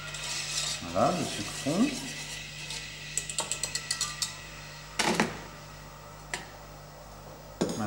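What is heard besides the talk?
whisk stirring sugar and water in a pan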